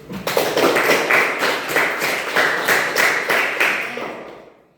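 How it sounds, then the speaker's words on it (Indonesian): A primary school class claps for themselves in loud, close, steady rhythmic unison for about four seconds before the clapping trails off, with no talking over it. "Sekarang berikan tepuk tangan untuk diri kita sendiri"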